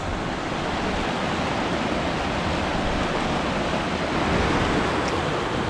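Small miniature waterfalls and rapids in a cold stream on a woodland hike, a steady dense rush of water holding at an even level throughout with no talk.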